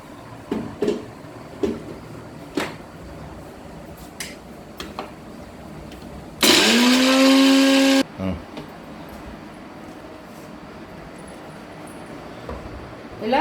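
A mixer grinder grinding fish masala paste, a loud motor whine running for about a second and a half mid-clip, surrounded by kitchen clatter and clinks with a person talking.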